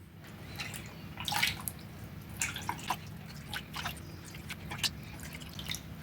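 Water pours and splashes into a pot, with irregular drips and sloshing bursts over a low steady background hum.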